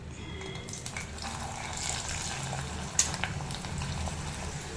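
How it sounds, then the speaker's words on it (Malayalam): Steady sizzling and crackling of okra frying in hot oil, fairly quiet, with a brief sharp clink partway through. "അതിലോട്ട് നമുക്ക് വെണ്ടയ്ക്ക ആദ്യം ഒന്ന് വറുത്തെടുക്കാം"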